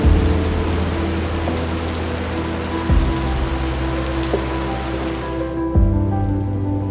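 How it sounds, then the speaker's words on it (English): Heavy rain pours in a nighttime storm, a dense steady hiss broken twice by loud booming rumbles of thunder. "Then rain fell heavily, and thunder roared and bellowed in the night."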